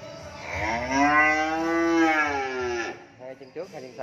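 A cow on a cattle farm lets out one long, loud, close moo lasting about three seconds, followed by a few brief quieter animal noises.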